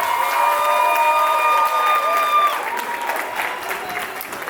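Wedding guests applauding at an evening reception, a full crowd clapping steadily while sustained musical tones hold underneath and then fade as the clapping carries on alone.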